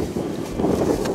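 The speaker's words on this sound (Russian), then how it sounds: "За ветер прошу прощения, сегодня до 20 метров. Сильные порывы." Strong gusty wind buffets the microphone outdoors on a day of gusts up to 20 metres per second, a steady low rumbling roar that swells in the second half with no talk.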